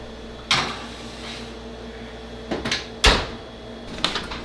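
A dish of bread pudding goes into the oven, with a few sharp knocks and clunks of the oven rack and door closing, spread out against a quiet kitchen background.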